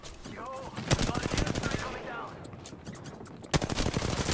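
Rapid automatic gunfire in the Apex Legends video game, loud bursts of close shots cracking in quick rhythm, a short pause, then another burst, with a voice briefly talking underneath.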